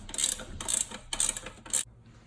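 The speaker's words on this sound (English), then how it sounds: "now we just gotta tighten the screws and that's all" Screws being tightened on aftermarket nerf bars fitted to a Yamaha Banshee ATV: four quick ratcheting bursts, close and fairly loud, each a short buzzy crackle separated by brief pauses, with no voices.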